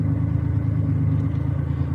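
An old stock V6 shop truck idles steadily nearby, a low, even engine rumble with a faint rhythmic clatter running throughout and no voices.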